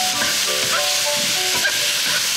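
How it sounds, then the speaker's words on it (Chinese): Mushrooms being stir-fried in a pan give a steady, loud hiss and sizzle throughout, with faint scraping of a utensil as they are tossed. "放一些菇下去， 好， 然后差不多拌炒一下。"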